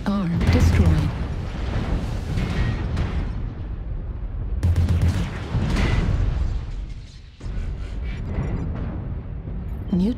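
Missile blasts and gunfire in the mech video game Spider Joy Ride, heavy booming explosions and dense rattling fire rolling continuously with brief breaks, loud and close, under a synthetic voice announcing alerts.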